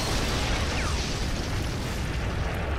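A missile blast wrecks a tank in the video game Prototype, a loud, dense, sustained roar of explosion and rumbling debris filling the whole moment.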